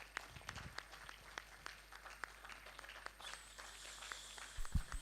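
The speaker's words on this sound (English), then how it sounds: "Good round of applause for the presentation." Scattered, fairly faint applause rises from an audience after a presentation at an osteoporosis prevention conference, a loose patter of individual claps over a low steady hum, growing a little denser near the end.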